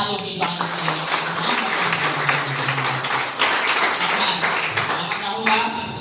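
Parents and staff at a parent-teacher meeting at a college in Madhepura, Bihar, applaud a mother. Loud, continuous clapping from a large gathering fills the room, with a low hum beneath it.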